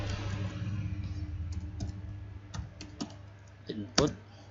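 Sparse, irregular keystrokes on a computer keyboard while code is edited, each click crisp and close over a low steady background hum.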